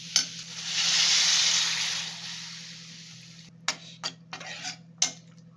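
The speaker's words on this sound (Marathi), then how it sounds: "आपण चांगलं हलवून घ्या" Savari pods (silk cotton tree pods) cooked as a traditional tribal vegetable dish are stirred in a frying pan: a steady sizzle swells and fades over the first few seconds, then several sharp spoon-on-pan clicks follow.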